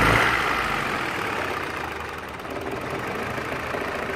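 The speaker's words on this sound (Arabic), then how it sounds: "الموتور بالوضع ده كده اهو" A 1995 Opel Victor engine idling roughly and running on two cylinders while the hood shakes, giving a steady close mechanical drone with an uneven knock and vibration and no talk.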